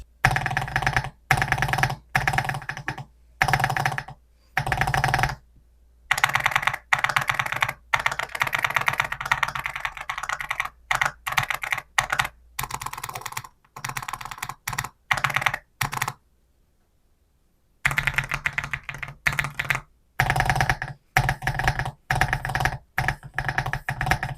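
Someone types at close range on an Epomaker MS68 mechanical keyboard, and the rapid clacking keystrokes come in bursts separated by short pauses, with no talk.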